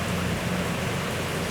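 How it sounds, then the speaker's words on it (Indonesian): Heavy rain pours steadily over western Banyumas, a dense, constant wash of drops close by with no voices or breaks, occasional low rumbles beneath. "Banyumas Barat diguyur hujan lebat sampai saat ini"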